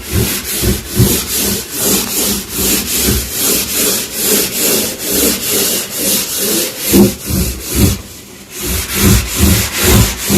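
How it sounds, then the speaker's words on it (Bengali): Soap powder being scrubbed around the inside of a drum, making a steady run of rhythmic, close, rasping rub strokes with a brief pause near the end and no talking. "দেখতে পাচ্ছ এইভাবে ঘষে ঘষে পরিষ্কার করতে হয়"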